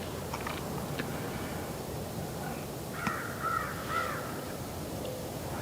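A crow caws a few times at a distance, short harsh calls clustered together over a steady windy outdoor background in April woods during turkey hunting.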